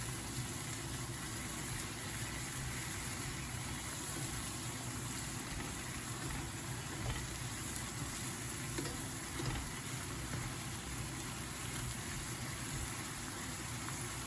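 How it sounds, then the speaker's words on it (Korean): Water dropwort (minari) stir-fries in garlic oil in a pan, giving a steady, soft sizzle and crackle that runs unbroken throughout at low volume. "볶아주면 뭐 완성입니다. 소스는 뭐 그냥 간장 굴소스 그런 베이스고요 처음에는 마늘 기름입니다"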